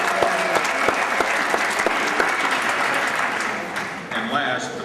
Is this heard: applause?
yes